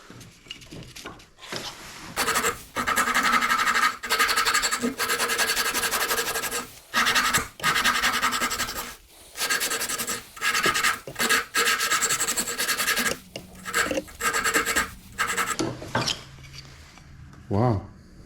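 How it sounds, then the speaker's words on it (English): Hand sanding a wooden Christmas muskie crankbait lure, with loud rhythmic rasping strokes in bursts of varying length and short pauses between them, close up. "And then after that, it'll all be hand sanding from there."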